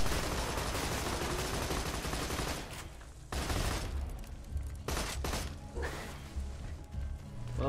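Sustained gunfire from a gun in the Borderlands 2 video game, dense rapid bursts for several seconds, then a few sharp separate shots amid game noise, loud and close.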